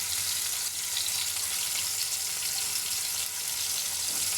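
Chicken pieces fry in a pan with an even, hissing sizzle that stays close and constant, broken only by a couple of brief dips, with no talking.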